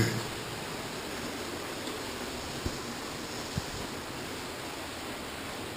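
Inside a cave, a waterfall makes a steady, even rushing roar that fills the space, with a couple of faint knocks under it.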